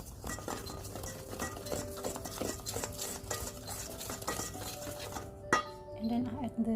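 Tapioca flour, salt and baking powder being stirred in a bowl, a quick run of scraping, clinking utensil strokes against the bowl, close and fairly quiet, ending with a sharper knock and a faint voice.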